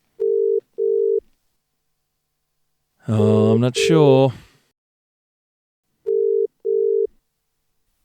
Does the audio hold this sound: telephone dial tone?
yes